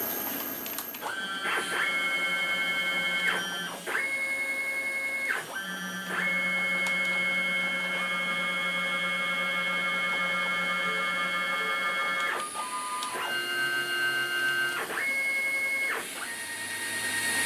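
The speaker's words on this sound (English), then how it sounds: "First I'm going to run the machine. I'm just going to jog it around" A CNC router jogged around on its axes gives a close, steady stepper-motor whine, shifting pitch in several distinct tones as each move starts and stops.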